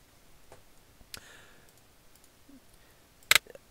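Two quick pairs of crisp computer mouse clicks, soft and close, spaced apart over faint background hiss with no one talking.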